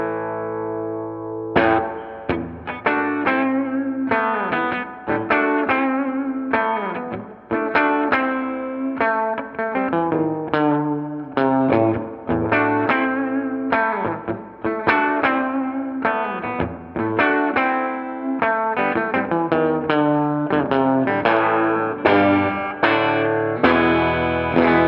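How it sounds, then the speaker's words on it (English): Electric guitar through the reverb channel of a Supro 88-T amp, a steady run of plucked notes and chords with a slightly dark, warm tone and light reverb tails, played alone and fairly loud throughout. "this channel here only incorporates the reverb and just a little different tone on it"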